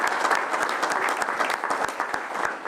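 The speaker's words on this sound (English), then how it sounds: "Let's give applause for that." An audience at a tribal council meeting applauds, a fairly loud, steady patter of many hands clapping with a few sharper individual claps standing out, and no talk over it.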